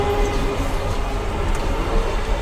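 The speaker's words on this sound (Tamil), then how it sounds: "ஸோ இப்போ போகிறது வந்து 6ஆவது ட்ரெயின் ஃப்ரெண்ட்ஸ்." A train rumbles past in a steady, loud roll of wheels on rail, heard close with no talking.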